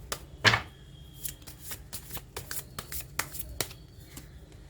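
Tarot cards are shuffled and drawn by hand up close, a sharp riffle at the start followed by a run of soft, irregular flicks and taps, quiet and with no talking.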